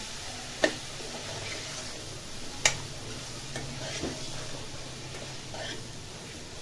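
Cauliflower and peas with masala are stirred in a pan for a dry vegetable dish, a quiet steady sizzle broken by two sharp clinks of a spoon on the pan and a few softer scrapes.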